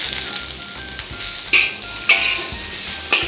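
Tri-colour bell peppers stir-fried in a wok with garlic and fermented black beans over reduced heat, a steady close sizzle punctuated by a few sharp spatula scrapes and tosses.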